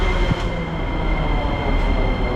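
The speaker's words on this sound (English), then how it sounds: "let me show you the trains. Oh, look at that. One is just arriving right now." Train arriving at a station in Bulgaria, an older unit producing a loud, close, continuous rumble of wheels and rails with a faint high squeal running through it.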